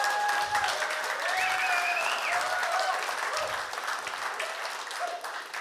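Steady applause from an audience at a technology innovation showcase fills the space, continuous and fairly loud, with a few tonal sounds drifting over the clapping.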